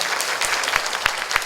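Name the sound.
audience applause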